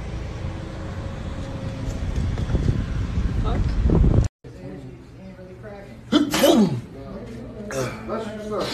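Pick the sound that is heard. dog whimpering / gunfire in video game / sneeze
sneeze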